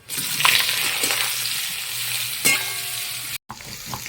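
Bay leaf, cinnamon, cloves, cardamom and cumin sizzle loudly in hot oil for a vegetarian curry. A steady, close frying hiss carries a few sharper crackles and stirring scrapes, then cuts off briefly near the end.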